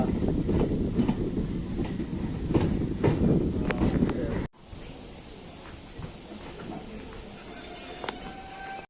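MEMU express train at Tambaram station, a steady loud rumble and hiss of rolling stock with faint rhythmic clatter, shifting midway to a quieter hum and a rising high-pitched brake squeal as it draws in.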